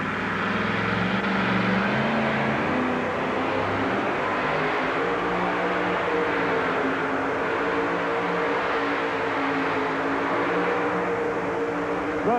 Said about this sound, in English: Then Army and I and you at home, we're going to listen real close to this engine of Jim Lyons and Stitches.